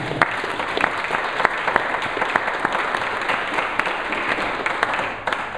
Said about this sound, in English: I think we should give everyone a round of applause.